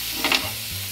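Masala for a tawa kaleji gravy sizzling on a pan, a brief close frying hiss with a single quick stirring scrape.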